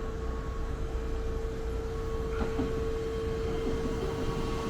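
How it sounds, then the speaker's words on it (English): Limited Express train passing near Kuzuha Station in Hirakata, Osaka, a steady low rumble of the cars running by at close range with a faint rail squeal, continuous throughout. "So here comes a train now."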